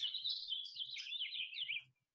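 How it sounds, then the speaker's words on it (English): Young birds close to fledging age chirp in a continuous high, busy twitter lasting about two seconds, close and fairly loud, alone with no talk. "I might end up losing the birds in 3 days because they are growing up to be fledglings."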